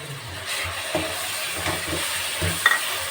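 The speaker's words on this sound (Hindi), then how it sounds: "तो अभी हम इसके अंदर डालते हैं टमाटर।" Tomatoes hitting a pan of frying masala for a bhindi dish, with a steady hiss and sizzle throughout and a few dull stirring scrapes and knocks, close and continuous with no talking.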